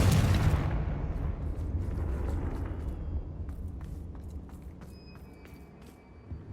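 A Confringo fire spell explodes in the video game Hogwarts Legacy, opening with a loud, deep blast that rolls into a long, low rumble and fades slowly, with faint scattered clicks and thin tones toward the end.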